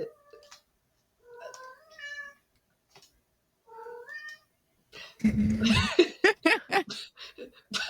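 A video game cat meows several times in short, rising calls separated by silences, followed by a burst of laughter and chuckling from people nearby.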